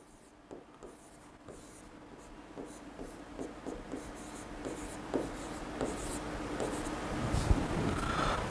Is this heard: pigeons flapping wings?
no